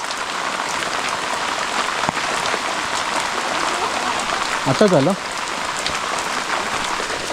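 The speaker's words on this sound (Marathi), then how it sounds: "पावसाचा जोर बऱ्यापैकी वाढला आहे" Heavy rain pours steadily with a dense hiss throughout, and a voice speaks briefly over it.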